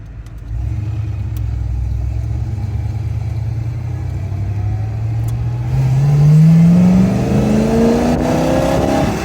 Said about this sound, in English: even in 4th gear at 40, I can put my foot into it and you just have so much torque to spare.